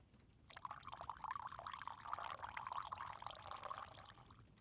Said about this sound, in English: Allow me to pour you some tea.